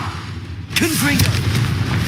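A Confringo blasting spell going off in the Hogwarts Legacy video game: one sudden loud explosive burst after a brief quieter lead-in, followed by a sustained booming roar with a short whooshing tail.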